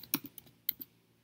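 Quick taps on a computer keyboard while a web address is typed, about six sharp clicks in an uneven burst, close and fairly quiet with no voice.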